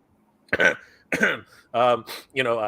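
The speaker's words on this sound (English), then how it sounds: "Sorry, I had to clear my throat there." A few short, rough throat-clearing grunts come in quick succession, close and fairly loud, with brief pauses between them.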